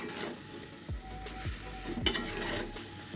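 Chopped onion, salt and red chili powder are worked together with oil, producing wet stirring and scraping sweeps with a few light clinks against the vessel over a faint background sizzle. No voices.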